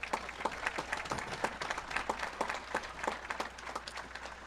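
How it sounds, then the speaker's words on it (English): Audience applause at a Sebastian River High School Class of 2023 graduation, moderately faint and somewhat sparse, with distinct individual claps rising and falling throughout. "Please give him another round of applause."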